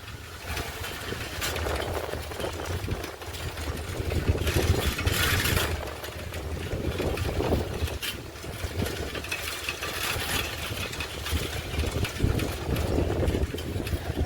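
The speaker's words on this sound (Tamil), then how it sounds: "அப்பப்போ ஒரு டிராக்டர் வண்டி முட்டு போயிட்டு வருது காய்ஸ்" A continuous tractor engine rumble with a rough, chugging texture, swelling and easing slightly as it passes on a hill road for the whole stretch, fairly close.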